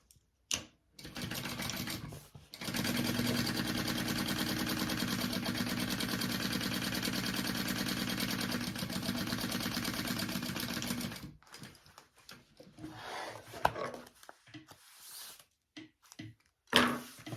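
A sewing machine basting trim onto a vinyl tote bag, running in a steady, close, loud whir for about eight seconds, with short bursts of stitching and handling clatter before and after.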